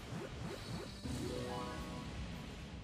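A floral explosion attack in a fantasy video game bursts out as a sweeping whoosh and crashing blast, layered with quick rhythmic swishes and a rising shimmering tone, fairly quiet and without talk.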